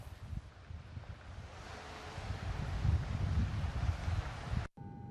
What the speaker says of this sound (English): Footage from the Danish army captures the spillage from the Nord Stream pipelines bubbling on top of the Baltic Sea